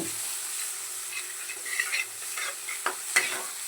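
Sliced onion frying in a pan with turmeric and chili powder, no oil, stirred with a spatula; a soft continuous sizzle broken by a few light scraping knocks.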